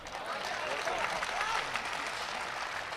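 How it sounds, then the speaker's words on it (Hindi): An audience at a Hindi poetry gathering (kavi sammelan) breaks into broad, sustained applause, a dense wash of clapping lasting several seconds without a break. "आपने ताली बजा दी"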